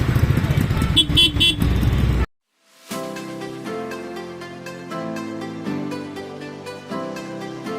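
Busy road traffic rumbles close by with a quick burst of car horns honking, then cuts off abruptly into a stretch of steady music.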